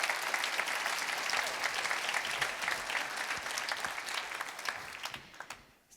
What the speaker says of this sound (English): give a round of applause to all the organizers and volunteers